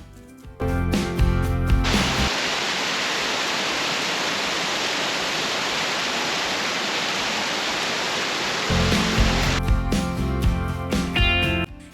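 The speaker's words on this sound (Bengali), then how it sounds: "এখানে ঢুকে প্রথমে চোখে পড়বে একটি ঝর্ণা কৃত্রিম হলেও" Artificial waterfall in Green Valley Park, Lalpur, Natore, a loud, steady rushing wash of falling water that starts abruptly, holds for several seconds, then gives way to music.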